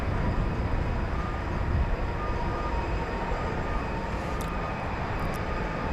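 A 14-year-old Airbus A380 airliner rumbles with a deep, broad engine roar at an airport, a steady, fairly loud wash of jet noise with no voices.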